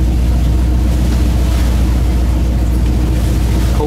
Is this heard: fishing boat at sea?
yes